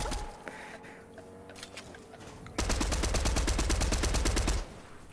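Gunfire from a shooting video game: quieter game sounds with a few scattered shots, then a loud sustained burst of rapid automatic fire lasting about two seconds before dropping back to background noise.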